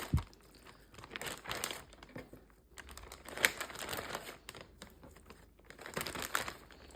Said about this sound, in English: now we're gonna put our mushrooms into this Ziploc bag here